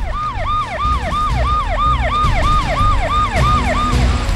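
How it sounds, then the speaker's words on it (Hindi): Police sirens wailing through streets at night in Dadri, Uttar Pradesh: a rapid rising-and-falling siren pattern repeating steadily, loud and close, over a low rumble of vehicle engine. "सड़कों पर देर रात तक पुलिस सायरन बजते रहे"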